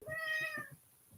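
A cat gives a single close, clear meow lasting under a second, followed by quiet.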